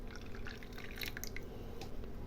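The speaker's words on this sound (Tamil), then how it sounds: "தண்ணி இன்னும் கொஞ்சம் ஊற்றிக்கலாம்." Water poured into a glass of fresh strawberry juice, a steady close trickle with small splashes and drips running throughout.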